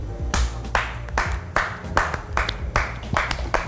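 Rhythmic clapping from a few studio hosts on an Indonesian celebrity gossip talk show, a steady run of sharp close claps with brief gaps, with a faint voice underneath.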